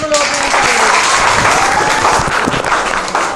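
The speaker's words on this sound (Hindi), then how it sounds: "ताली बज जाए यार" Loud, steady applause fills a classroom physics quiz as students clap for two contestants, dense and continuous with voices mixed in.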